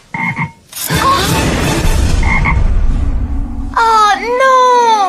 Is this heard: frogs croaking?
yes